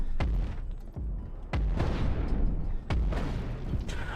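Overclocked large cannons in the space game Cosmoteer fire repeatedly, several heavy booming shots at uneven intervals, each a sharp thump with rumbling tail and shrapnel crackle, loud and close.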